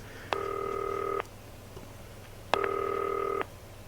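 A telephone in the video game Not For Broadcast rings in two long electronic bursts separated by a pause, each a steady buzzing tone, clear and close over a quiet background.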